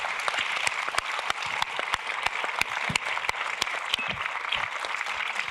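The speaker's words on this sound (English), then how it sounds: "Could we give a huge round of applause?" Sustained applause from a film festival audience honouring the guests of a documentary screening on Afghan women, a dense steady clatter of many hands clapping without pause for several seconds.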